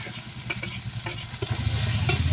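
Poppy seed paste goes into parshe fish cooking in a pan with salt and turmeric, giving a steady close sizzle with scattered scraping stir strokes. It grows a little louder toward the end, with no talk.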